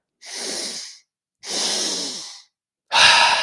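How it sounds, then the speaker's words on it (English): Three forceful, deliberate breaths during a breathwork session, each a loud, breathy rush lasting about a second, the last starting sharper and stronger; close and alone with no talk. "you might feel a bit lightheaded as you're intentionally hyperventilating here"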